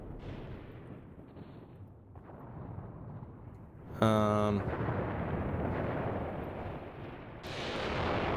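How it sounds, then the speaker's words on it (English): Anti-tank guns fire in a WW2 simulator video game, one sharp, loud blast standing out against a steady rumble of distant battle noise, with heavier gunfire swelling near the end. "Those anti-tank guns are firing somewhere."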